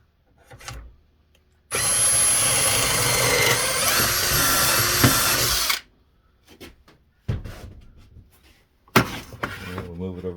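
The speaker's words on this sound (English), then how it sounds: "Drill our hole." Power drill boring a hole through a wooden board for a windmill planter, a loud continuous whirring grind lasting about four seconds, followed by brief clunks and handling noises.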